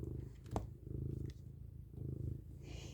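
A house cat purrs up close in slow, even rumbling cycles, each breath audible in and out, with a brief scuffle of movement partway through and no speech.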